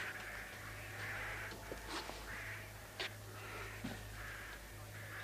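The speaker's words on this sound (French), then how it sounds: "N'entendez-vous pas les cris des corneilles qui nichent dans la tour?" Crows nesting in a château tower caw repeatedly from a distance, harsh rhythmic calls about once a second over a steady low hum, with no speech.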